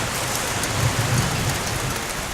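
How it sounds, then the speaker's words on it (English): Steady rain pours down on an open farm field, a dense, even hiss of drops with no talking. "What do you think when you see all the rain?"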